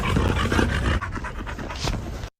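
A dog pants in quick, loud, close breaths, steady for the first second, then continuing in slightly softer rhythmic huffs before cutting off.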